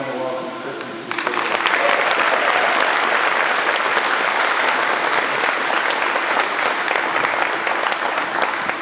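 Loud, steady audience applause fills a Hall of Fame dinner for university athletics, rising sharply after a brief quieter moment and continuing as a dense, sustained clatter of clapping hands.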